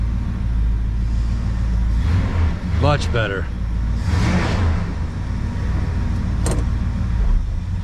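A tuned-up Plymouth Belvedere engine idles at about 1,000 RPM, a steady low rumble running throughout, with brief voices and a couple of short sharp sounds over it.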